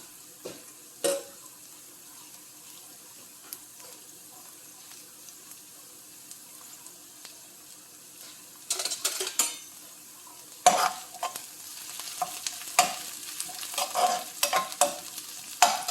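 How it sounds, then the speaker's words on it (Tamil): Onions sautéing in a pan for a brinjal, potato and drumstick gravy, a low sizzle under sparse scraping stirs that grow busier and more frequent toward the end, close and moderate. "வெங்காயம் நல்லா வதங்குது."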